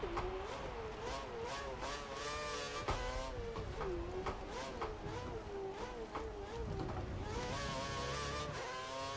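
A Formula 1 car in the F1 2013 video game laps Silverstone at the British Grand Prix, its high-pitched engine wailing continuously and rising and falling through gear changes, moderately loud.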